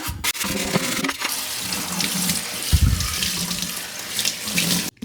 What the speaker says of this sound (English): we're just topping off the ultrasonic cleaner with the CowRC